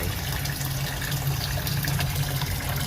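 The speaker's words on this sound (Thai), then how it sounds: "ก็ลองทดลองให้น้ำไหลจากท่อน้ำล้นดู ก็ได้ผลครับ ท่อน้ำล้นก็ลง" Water drains steadily through a sink overflow pipe into a clear hose taped on with electrical tape, a continuous close rushing gush with no pauses.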